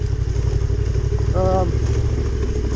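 A Honda CRF 300L motorcycle engine running off road, a steady loud mid-pitched thrum with a brief tonal whine partway through and no break in the drone.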